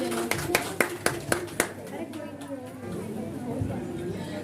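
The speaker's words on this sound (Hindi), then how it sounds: "जोरदार तालियां मैम" Audience clapping at a Teej function, several sharp bursts of applause in the first second and a half, then fading into a hum of chatter and voices.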